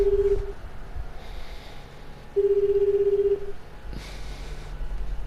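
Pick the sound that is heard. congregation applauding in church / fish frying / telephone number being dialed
telephone number being dialed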